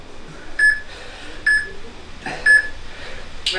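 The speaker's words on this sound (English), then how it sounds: "We're gonna wait for that timer to go out." A Tabata interval timer app sounds three short, evenly spaced electronic beeps about a second apart during a full body home workout, over a faint, quiet room background.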